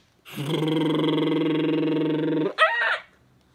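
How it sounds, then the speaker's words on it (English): A single loud, drawn-out bird call holds steady for a couple of seconds, then breaks into a short, sharp squawking flourish before stopping. "these birds are talking to the baby"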